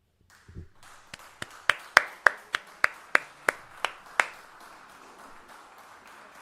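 During a livestream, a single pair of hands claps about a dozen sharp, evenly spaced claps in a steady rhythm close to the microphone. The clapping is fairly quiet and ends with a short silence.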